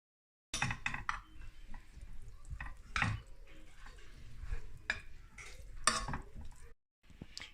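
Cooked pasta and green beans being stirred through with green pesto, soft wet squelching and scraping with occasional clinks of a utensil against the pot, close by and with no talking.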